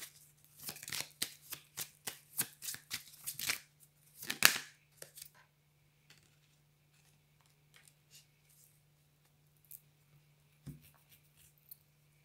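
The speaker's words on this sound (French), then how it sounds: "Alors on me dit qu'on prend une dernière carte." Tarot cards shuffled by hand in a quiet room, a quick run of crisp riffling flicks for about four seconds ending in a final snap, then near silence with a few faint taps.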